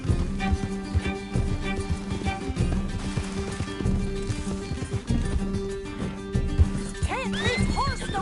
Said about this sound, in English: Can't this horse go any faster?